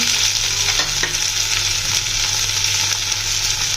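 Steady, dense sizzling of onions frying in a pan with cumin, ginger and garlic, with occasional stirring scrapes over a constant low hum.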